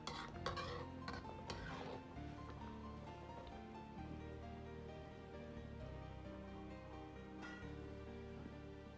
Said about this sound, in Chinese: 再用勺子稍微推动下，这样做出的蛋花大小均匀